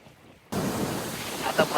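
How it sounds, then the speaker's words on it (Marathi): Strong coastal wind and surf on the Konkan shore near Dapoli during the monsoon, a steady broadband roar of gusts and breaking waves that starts abruptly and stays loud and close, with a few faint tonal bits near the end. "आता मस्तपैकी इथं वारा सुटला आणि लाटांचा आवाज घेऊन बघा कसला भारी येतोय"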